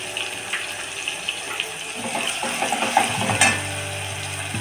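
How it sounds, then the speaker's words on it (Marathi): Fish curry masala with turmeric, onion and garlic sautéing in a pan, giving a steady soft sizzle with light stirring scrapes and a few clinks, no one talking. "परतून घ्यायचं त्याच्यामध्ये हळद टाकून घ्यायची"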